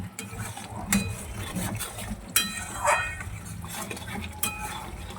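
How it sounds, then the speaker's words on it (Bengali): Spice paste with salt is stirred and sautéed in a pan while making doi rui fish curry. A spoon scrapes and knocks against the pan in irregular strokes, with a few sharper clinks over a low sizzle. Nobody speaks. "আবার মশলাটাকে কষিয়ে নেব।"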